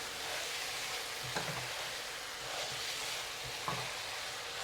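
Green chilies and spring onion stems stir-fry in a pan for Shandong chicken, a quiet continuous hiss of frying with a couple of soft scrapes as the ingredients are tossed around.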